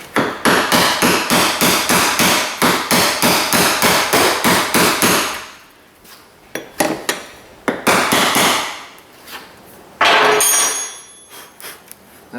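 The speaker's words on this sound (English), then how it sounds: "I'm going to hammer around until it locks." Metal hammering on a Chevrolet Silverado fuel pump lock ring: a fast, steady run of about twenty loud, ringing strikes, then a pause followed by scattered, irregular blows.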